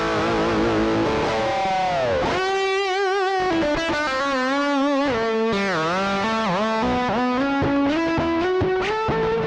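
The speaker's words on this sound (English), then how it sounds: "So let's try the hot setting. Let's crank that distortion up." A heavily distorted electric guitar through a Behringer GDI 21 pedal on a hot, cranked setting plays bending, sustained notes with a thick, saturated, buzzing tone, loud and continuous throughout.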